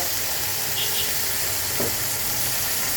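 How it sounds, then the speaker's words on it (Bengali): Water poured onto masala frying for a prawn curry brings a dense, continuous hiss of sizzling and steam, loud and close throughout. "আমি হালকা আরেকটু জল দেব মশলাটাকে আরেকটু কষানোর জন্য"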